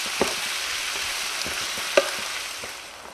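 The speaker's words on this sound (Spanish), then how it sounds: "Lo iremos moviendo de vez en cuando para que se dore por todos lados." Seasoned chicken breasts frying in a pan, a steady close sizzle throughout with a few soft knocks and scrapes from stirring.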